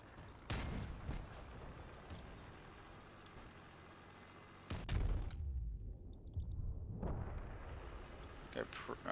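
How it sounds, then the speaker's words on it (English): Vehicle weapons firing in the video game Crossout, repeated heavy booming shots and blasts, loud and close, with a brief lull before more shots, under occasional talk. "I'll just keep shooting him until he faces me"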